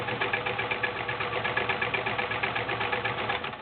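A vintage 1980s Kenmore 12-stitch convertible free-arm sewing machine stitches through four layers of denim, running steadily with a fast, even mechanical clatter from start to finish.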